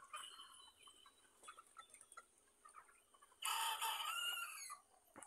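Chickens on a poultry farm in excessive heat: soft scattered clucks and murmurs, then a louder rooster-like crowing burst near the end, faint and thin overall.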